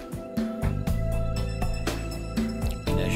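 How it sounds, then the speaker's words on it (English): Soft background music plays continuously through a preview in Explaindio animation software, a steady instrumental bed with repeating note patterns and regular beats, moderately quiet with no talking over it. "you can hear the music playing in the background"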